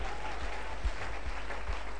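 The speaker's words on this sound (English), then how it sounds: "Give Jesus a clap offering." A church congregation claps in a brief burst of applause during a live prophetic ministry service, dense and steady with a few louder claps.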